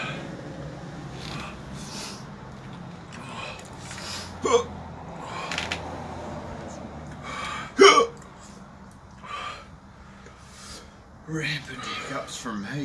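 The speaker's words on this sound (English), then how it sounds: "Rampant hiccups from me." A man hiccups several times at uneven intervals, with sharp short catches standing out close by, mixed in among people talking outdoors.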